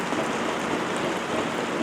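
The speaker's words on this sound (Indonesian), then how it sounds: "Suasananya saat sore hari menjelang gelap dan hujan" Steady rain falls at a hillside villa in a budget resort in Subang as evening turns dark, a dense even hiss with no voices.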